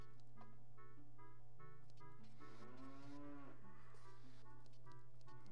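A cow moos repeatedly in the video game The Legend of Zelda: Ocarina of Time, with several short lowing calls and one longer drawn-out moo over a steady game music hum.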